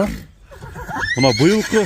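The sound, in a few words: mare neighing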